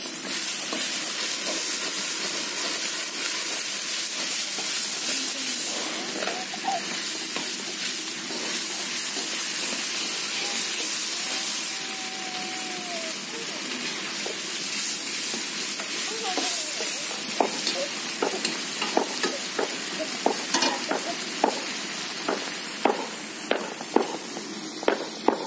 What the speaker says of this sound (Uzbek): Buni ham yaxshilab qovurib olamiz.